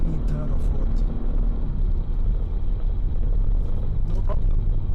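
A V6 Nissan Patrol engine pulls hard at about 4000 RPM up a hill in fifth gear, a steady, loud low rumble with wind and road noise that stays constant throughout.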